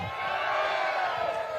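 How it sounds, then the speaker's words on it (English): Crowd at a Bassmaster Elite Series bass fishing weigh-in cheering and whooping in a short, loud, continuous roar. "They have to hear the crowd."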